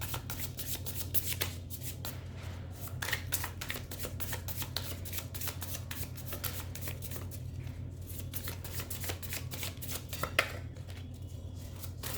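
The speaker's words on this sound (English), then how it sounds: "Now let me pull out some tarot cards for you." Tarot cards being shuffled by hand, a steady run of soft riffling flutters and slaps lasting throughout, close and fairly quiet over a low background hum.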